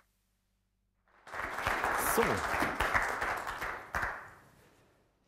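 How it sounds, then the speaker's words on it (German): After a moment of silence, a small audience at a colloquium breaks into moderate applause that lasts about three seconds and then tapers off. A single voice speaks briefly near the start. "Bitte einen Applaus für unsere Kollegen"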